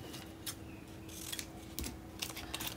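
Scissors cut out fabric for the sleeve of a Basque gown, a few quiet, separate snips and rustles spread across a soft background.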